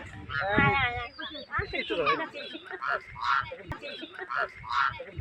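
Ducks or geese in a village yard give a few loud, close honking calls, mostly early on, while people talk over much of the scene.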